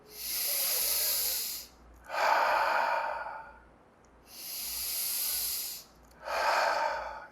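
Two slow, deep breath cycles during a seated chair yoga pose, each a long airy inhale followed by a stronger exhale, close and steady in a quiet room.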